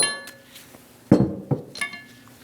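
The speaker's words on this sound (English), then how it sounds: "Remove the caliper from the bracket and remove both pins." Metal brake caliper pins are pulled out of the rear caliper bracket on a 2001-2006 Chevrolet Silverado 2500 HD, giving a few close, sharp metallic clinks and knocks spaced over a quiet garage background.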